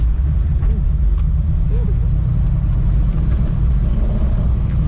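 A 3000GT fitted with a big-block V8 drives along with a heavy, low, continuous engine rumble heard from inside, and a voice is briefly heard over it.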